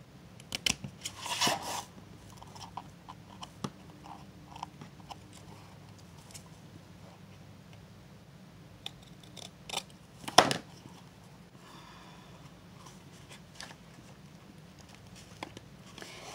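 Scissors make a few scattered snips and clicks while material is trimmed for a handmade box, with quiet handling noises and occasional rustles between cuts.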